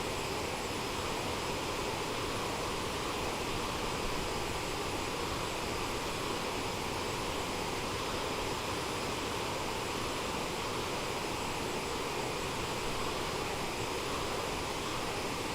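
Jet engines of an Aerosoft CRJ-550 in Microsoft Flight Simulator produce a steady, dense, unchanging roar throughout, with no voices.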